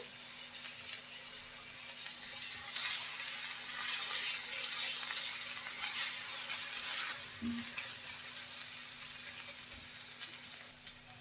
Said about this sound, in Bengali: পেঁয়াজটা হালকা ভেজে নিয়েছি আদা এবং রসুন বাটা কাঁচামরিচ